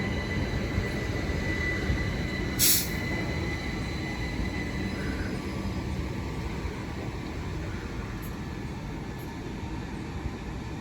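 A Class 375 electric train, unit 375809, on the Ramsgate to London Charing Cross service via Tunbridge, runs past Headcorn station as a steady, fairly quiet rumble held at an even level, with a brief sharp squeal early on.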